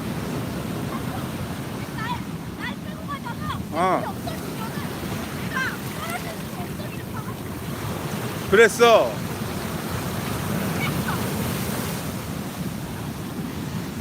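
Surf rolls onto a beach on the Gangwon coast on a rough day when swimming is banned, a steady broad wash with wind buffeting the microphone and brief talk over it.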